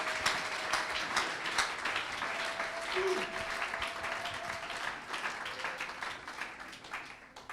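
A church congregation at a Sunday service applauds and acclaims Jesus, a broad steady wash of clapping and voices that holds at an even level throughout, with a faint sustained tone running underneath.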